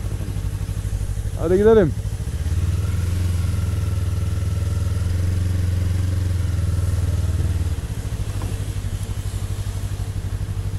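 A 2022 Yamaha MT-03 motorcycle engine idles steadily and close at hand, a low even drone after a short rising rev, with a person speaking briefly over it.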